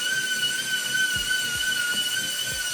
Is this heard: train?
no